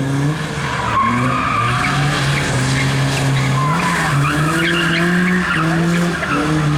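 Tires squeal loudly and steadily as a car resembling a VAZ 2106 but built with BMW 3-series running gear skids through an autoslalom course in Lviv, its tonal screech wavering continuously with no talk over it.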